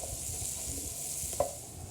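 Onions sizzle in a pan as the base for a Cajun crawfish étouffée, giving a soft, steady hiss with one brief clink or pop.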